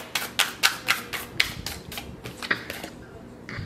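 A rapid series of crisp, papery snaps and riffles as tarot cards are shuffled, a dozen or so in quick rhythm, close up, then slowing and fading, with no talking.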